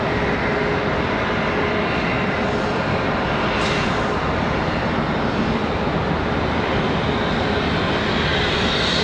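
Boeing 737 Max airliner engines spooling up at Charlotte Douglas airport, a steady broadband jet roar that rises and thickens, heard from a distance outdoors and continuous throughout.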